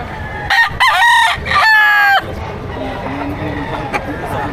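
A rooster at a poultry market in Padre Garcia, Batangas crows loudly and close by in one drawn-out call, followed by steady background crowd noise with a voice talking.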